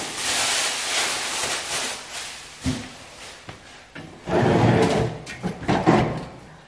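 Door of a Vevor pellet pizza oven being opened during unboxing, giving a few dull knocks and clunks of metal and packaging at close range, with a louder cluster of handling noise near the end.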